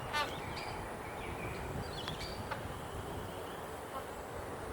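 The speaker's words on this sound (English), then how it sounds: "There's some magpie geese down there." Magpie geese honk from a distance below the viewpoint, a few short nasal calls that carry over a constant broadband rush of ambient noise, with a faint voice present.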